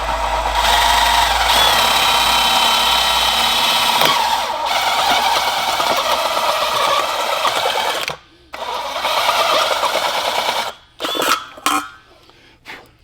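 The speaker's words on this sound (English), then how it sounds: "So I got my step drill bit and I marked it, so because I want half-inch holes." A step drill bit bores half-inch holes in a metal burn pot for a used oil burner, a loud grinding drill whine that runs continuously for about eight seconds, then returns in shorter bursts with brief pauses.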